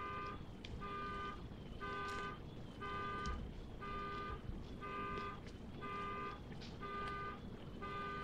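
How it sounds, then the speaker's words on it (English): A car alarm sounds outside, cycling through repeating electronic tone patterns in a steady rhythm, moderately distant and fairly quiet. "There's a car alarm going off."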